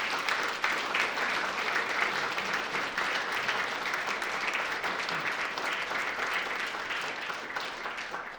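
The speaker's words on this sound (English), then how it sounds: "a short round of applause." A short round of audience applause at an awards ceremony, steady dense clapping from a room full of people sustained for about eight seconds without voices.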